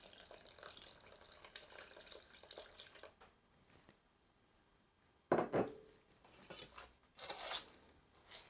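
Turkey broth trickles and splashes softly into a bowl of cornbread dressing at first, then quiets, followed by a few clinks of dishes and utensils nearby.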